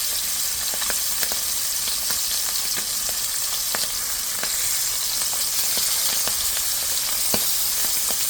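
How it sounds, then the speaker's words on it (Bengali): Pomfret fish fry in hot oil in a wok, giving a steady dense sizzle with frequent sharp pops and crackles spaced through the whole stretch, close and fairly loud with no voices. "কড়াইতে তেল নিয়েছি তেলটা গরম হয়ে গেছে এখন মাছগুলো আস্তে আস্তে দিয়ে দেবো"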